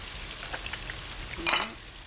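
Cauliflower, onions and garlic frying in a pan: a steady, close crackling sizzle with a brief louder burst of spitting and a scrape of stirring partway through.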